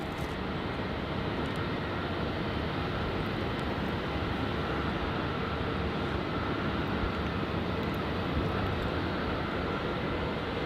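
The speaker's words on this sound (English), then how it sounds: "Looks like we have an arrival here on runway 16. It's going to be the Rex Saab 340 from Mildura." A Rex Saab 340 turboprop arriving on runway 16 in heavy wet weather makes a broad, steady roar with no clear rise or fade, likely mixed with rain.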